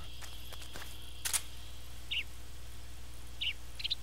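Short chirping bird calls in the Metal Gear Solid 3 video game, three or four brief high chirps spaced apart over a steady low ambient hum, with a soft rustle near the start.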